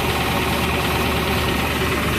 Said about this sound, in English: The knock is coming from underneath here.